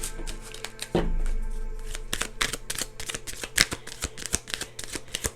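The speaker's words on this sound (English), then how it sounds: "So let me shuffle again." A deck of cards being shuffled by hand during a card reading, with crisp, close riffling bursts and quick snaps that repeat irregularly without any talk.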